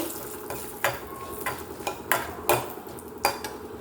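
Asafoetida is stirred into chicken-spinach greens cooking in a pan, with a low sizzle underneath and a series of distinct metallic spoon clinks and scrapes against the pan at irregular intervals.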